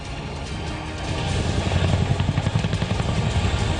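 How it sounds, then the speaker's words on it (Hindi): An Apache attack helicopter, a loud droning engine and rotor roar that swells and grows a rhythmic beating chop toward the end, steady and close with no talking. "अपाचे हेलीकॉप्टर से रॉकेट भी लॉन्च किए जा सकते हैं।"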